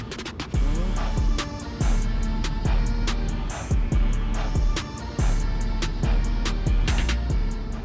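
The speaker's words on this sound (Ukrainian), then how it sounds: "Дрон доволі гучний, я скажу." A small Meteor75 FPV drone flies over a city centre, its motors giving a loud, continuous buzzing whine that surges and dips, with repeated sharp ticks and bursts cutting through the steady drone.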